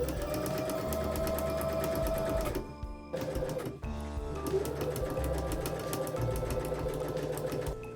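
A sewing machine stitches a pressed seam down to the lining of a pencil skirt, running in a steady fast whir with rapid needle ticking, briefly pausing twice before continuing.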